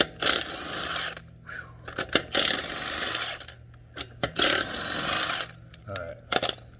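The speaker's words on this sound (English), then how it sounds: "I'm using this impact, so I'm just gonna run them off" A pneumatic impact wrench spins lug nuts off a Porsche Cayenne outdoors, firing in several rattling bursts of a few seconds each with brief pauses between, fairly close.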